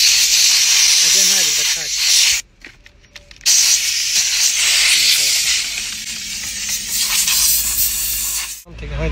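Cleaner is sprayed in hissing bursts into the evaporator of a Toyota car's air conditioning, loud and close, with short pauses between sprays and someone talking over parts of it.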